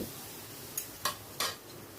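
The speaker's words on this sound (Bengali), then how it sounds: "এবারে আমি সেদ্ধ করে রাখা চিকেনটাই ভেতর দিয়ে দিচ্ছি" Boiled chicken tipped into cooked-down masala in a pot and stirred, giving three sharp clanks and scrapes of utensil against metal spaced over a couple of seconds, fairly quiet and close.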